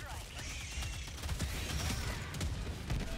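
Autocannon sentry in Helldivers 2 firing in a steady run of heavy, booming shots amid dense battle noise, with continuous rumbling gunfire and crashes throughout.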